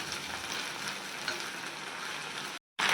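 Mint and coriander leaves sizzle and fry steadily in a hot pan for a Tamil mint masala puffed rice dish, a close continuous crackle that cuts out briefly near the end.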